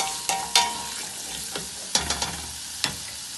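Vegetables being stirred in a pot for a homemade vegetable soup, a few scraping clicks and taps of the spoon over a soft sizzling bed, close and fairly quiet.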